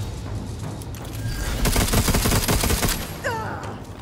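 A rapid barrage of gunfire in the Necromunda Underhive Wars video game, a dense rattling burst of shots lasting over a second, followed by a short synthetic chirp.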